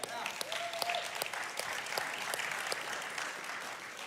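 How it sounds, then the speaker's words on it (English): An audience applauds steadily for about four seconds at a wellness event, dense overlapping claps at moderate distance with no voices over them. "Let's give them a round of applause."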